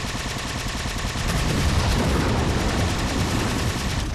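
Dense gunfire and shooting in the Halo 4 Spartan Ops co-op mission, loud and continuous with rapid bursts layered over a low rumble throughout.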